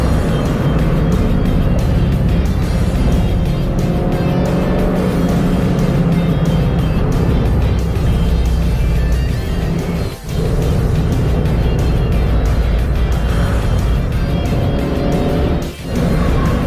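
Mazda 2 race car lapping a wet, greasy circuit, its engine droning loud and steady throughout with continuous road and spray noise, briefly dipping twice as the car lifts off the throttle.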